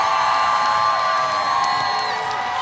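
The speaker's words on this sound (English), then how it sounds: "I would imagine we're going to hear a massive response from this crowd." A large basketball crowd at a high school game in Window Rock roars and cheers continuously, loud and dense with whoops and shouts, no distinct speech on top.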